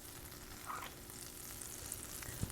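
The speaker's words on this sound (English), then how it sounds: "to my cast iron skillet, I'm going to add a tablespoon of salted butter" Salted butter melts in a cast iron skillet with a soft, steady sizzle and faint crackles. It sounds close but quiet and continues throughout with no talk.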